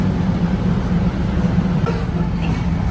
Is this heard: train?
yes